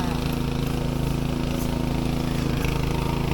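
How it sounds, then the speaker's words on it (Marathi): A machine puddles mud in a rainy-season paddy field in the Konkan, giving a steady droning engine hum at moderate distance with a few brief knocks. "मशीनद्वारे चिखल चालू आहे"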